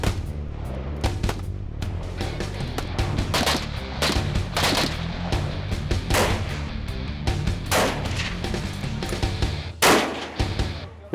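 Rifle shots from a lightweight 30-06 fired at long range, a series of sharp reports spaced irregularly over steady outdoor background noise, each crack loud and near with a short echoing tail.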